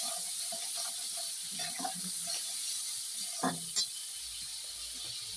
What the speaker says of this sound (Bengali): এবার সেই নুনটা দিয়েও মশলার সঙ্গে আমি কষে নিলাম